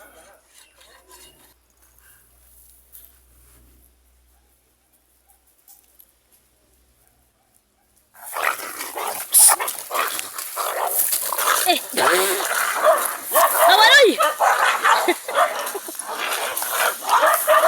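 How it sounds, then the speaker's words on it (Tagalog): After a quiet stretch, dogs erupt into loud, overlapping snarls and barks, a chaotic scuffle close by with a person shouting. "may nagagangwar na aso"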